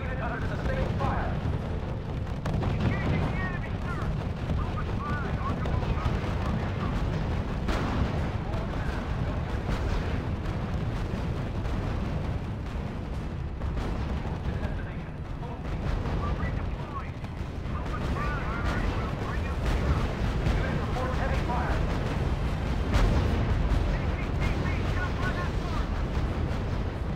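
Sustained gunfire and artillery rumble continuously through a World War II battle in the strategy game R.U.S.E., a dense, unbroken roar of distant shots and blasts with radio-style voice reports heard over it.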